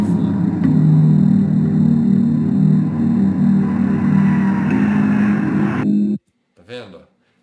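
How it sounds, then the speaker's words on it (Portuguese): An airplane sound effect used as video background: a steady, loud, low droning rumble like a jet cabin runs for about six seconds, then cuts off abruptly before a brief voice is heard. "Então eu quis colocar aqui o som de avião de fundo."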